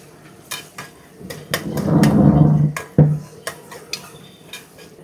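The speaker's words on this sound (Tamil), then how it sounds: "கடலெண்ணெயில் நல்லா வெங்காயத்தை வதக்குறோம்" Small onions being sautéed in groundnut and sesame oil in a pan, a sizzle that swells in the middle under sharp clicks and scrapes of a utensil stirring against the metal.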